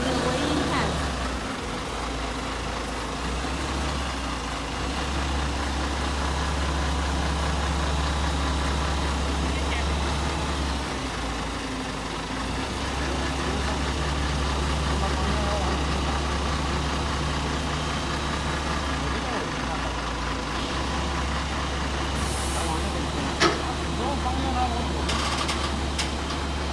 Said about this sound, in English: Now, we ask the truck to passing through the weighing pad slowly.